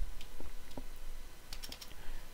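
A few scattered keystrokes on a computer keyboard while entering a statistics formula, quiet and close, with uneven clicks spread across a couple of seconds and no talking.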